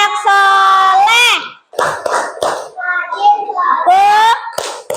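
A group of children chant in loud sing-song unison during a classroom clapping game, breaking into bursts of sharp rhythmic hand claps between the chanted lines.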